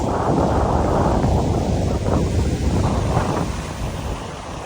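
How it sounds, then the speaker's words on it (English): Powerful wind roars steadily and loudly close to the microphone, fading slightly toward the end; nobody speaks. "It's starting to get real windy and dark and spooky."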